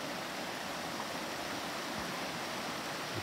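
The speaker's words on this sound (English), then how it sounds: "Right outside of our camp, you can hear it, is the roaring" Roaring Brook near a campsite in Baxter State Park rushes steadily, a dense, constant broadband roar of flowing water with no pauses, close and fairly loud.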